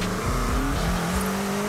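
A tuned Abarth 595 Esseesse fitted with a turbocharged rally engine, racing in Forza Horizon 5, revs hard with rising and falling engine tones and some tire squeal, loud and close throughout.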